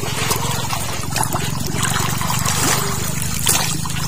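Strong current of water flowing out of a spring, a close, continuous rushing trickle with steady turbulence and no pause.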